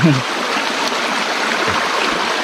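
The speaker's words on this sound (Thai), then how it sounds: "น้ำเย็น นะครับ น้ำไหลโกรก" Cold stream water flows in a forested hill area, a constant close gurgling rush with a faint voice at the start.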